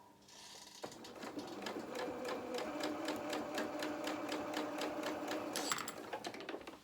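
A sewing machine stitches steadily along the edge of a doll's trouser pocket, a rapid, even mechanical chatter running close and continuous for several seconds before stopping.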